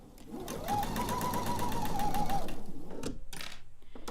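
A sewing machine stitches a quilt seam in one steady, close whirring run of about two seconds, then stops, leaving quiet handling noise.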